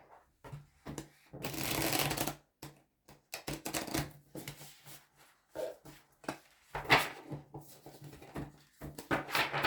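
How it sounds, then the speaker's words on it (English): Tarot deck being shuffled by hand, with repeated bursts of riffling and sliding cards in quick, uneven rhythm, close and fairly quiet with short pauses between shuffles. "I'm just going to give a few more shuffles"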